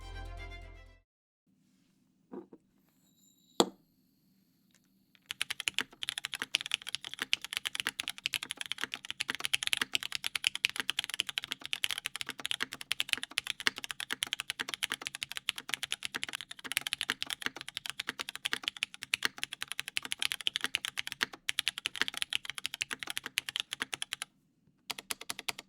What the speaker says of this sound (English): all of our review boards are built with MX Black switches that have been filmed, lubed, and spring swapped